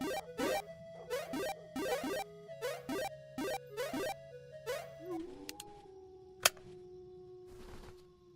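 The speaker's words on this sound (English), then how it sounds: "Dog." A dog barks in a rapid run of close, loud yelping barks, about a dozen in quick succession, before it settles into quieter whimpering and a single sharp snap.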